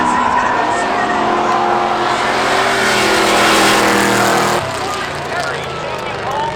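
A drag race car at a Seekonk Speedway spectator drags event roars with loud engine revving and tire noise as it spins out. It plays under an announcer's talk, then drops off sharply near the end.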